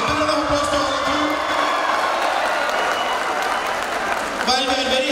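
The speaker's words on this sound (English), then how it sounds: "A big round of applause to all of you." A large audience of college students and parents applauds at a freshers' day event in LB Nagar, a dense, steady roar of clapping with scattered cheers that keeps going for several seconds.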